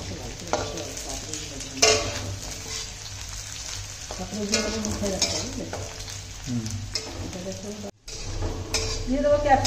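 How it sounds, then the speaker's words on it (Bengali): Carrots go into hot oil and ghee in a kadai, setting off a close sizzle mixed with stirring scrapes and utensil clatter, with faint voice-like sounds in places and a brief drop near the end. "তেলটা গরম হয়ে গেছে, এখন দিয়ে দেবো গাজর।"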